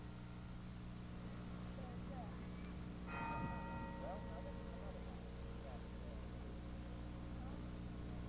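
A church bell strikes once and its tone rings out and slowly decays over a steady background hum, with faint murmuring around it.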